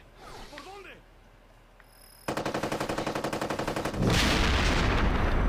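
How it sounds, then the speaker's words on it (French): Explosion and gunfire in the Ghost Recon Advanced Warfighter video game: a quiet lead-in, then a rapid burst of repeated loud shots that gives way to a broad, roaring blast that stays loud and sustained. "Il y a vraiment des très belles explosions"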